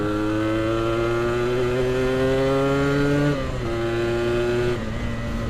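A 2008 Yamaha RX King two-stroke motorcycle engine runs close by with a buzzy, harmonic-rich tone, holding steady, then dropping and picking back up as the throttle shifts, with no talking.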